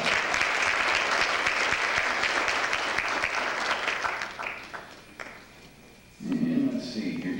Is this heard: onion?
no